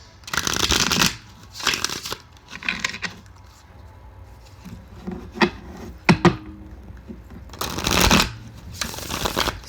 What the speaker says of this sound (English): Cards are so big. I can barely hold them.